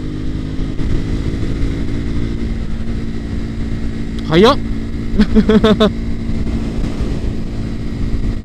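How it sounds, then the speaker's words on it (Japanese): A Triumph Scrambler 400X motorcycle cruises at about 100 km/h on an expressway near 5000 rpm, a steady engine drone under heavy wind rush, with brief rising revs partway through. "エンジンには余裕がありそうですね。ちょっと回してみようかな。"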